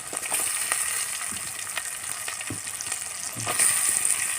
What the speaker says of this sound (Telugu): చక్కగా అటు ఇటు కలుపుకోవాలి మట్టి పాత్రలో వంటలు చాలా రుచిగా ఉంటాయి